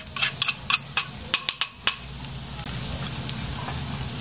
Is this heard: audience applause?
no